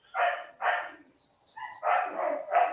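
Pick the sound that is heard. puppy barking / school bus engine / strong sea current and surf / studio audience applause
puppy barking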